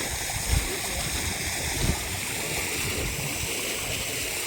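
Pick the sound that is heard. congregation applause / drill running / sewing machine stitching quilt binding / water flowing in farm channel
water flowing in farm channel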